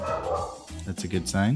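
A pet dog barks and yips in short, loud bursts right beside a podcast host's microphone during a recording, overlapping the host's speech.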